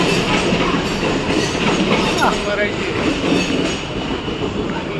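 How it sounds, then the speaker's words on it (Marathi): A Mumbai Central line suburban train rumbles steadily and loudly close by, with a continuous clatter of wheels on track and a faint squeal, and no voices over it. "शेवटी ट्रेन आली"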